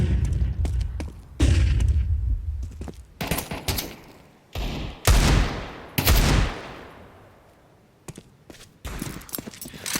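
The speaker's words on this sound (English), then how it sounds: "Tech9s, Deagles, desperation. As Donk has that 1 AK" Dense Counter-Strike gunfire from Tech-9s, Deagles and an AK in a pro match, with rapid bursts and booming shots overlapping, some sustained stretches fading into brief gaps.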